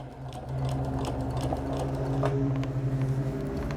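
A sewing machine fitted with a walking foot stitches steadily while quilting gentle curves, a continuous close mechanical whir with a rhythmic needle-bar chatter that starts after a brief pause and runs evenly to the end.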